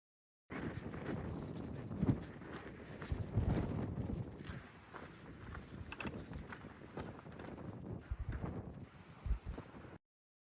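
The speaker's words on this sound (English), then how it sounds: "Windy." Strong wind buffets the microphone on a high mountain ridge in the Smokies along the Appalachian Trail, with rough gusting rumbles and bursts that rise and fall for about ten seconds, close and loud.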